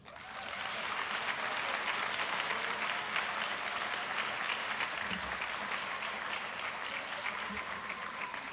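Steady audience applause fills a room at a school athletic banquet, starting quickly and holding even for several seconds, moderately distant with no talk over it.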